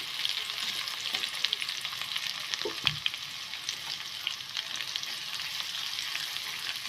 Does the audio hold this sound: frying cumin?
yes